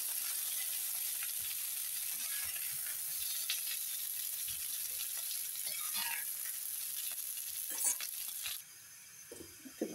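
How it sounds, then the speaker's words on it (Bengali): Ginger, cumin and green chilli sizzle steadily in a hot pan for cauliflower sabzi, a continuous close frying hiss with faint stirring clinks, easing off near the end. "এখানে আদা, জিরা, কাঁচা লঙ্কা, এটা এখন ভেজে নেব।"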